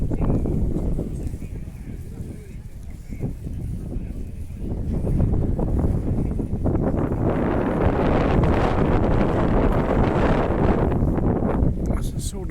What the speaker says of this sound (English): you have to contend with this wind